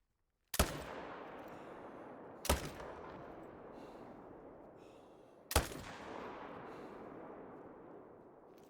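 Three loud hunting rifle shots in Call of the Wild, widely spaced, each a sharp crack followed by a long rolling echo that fades across open terrain.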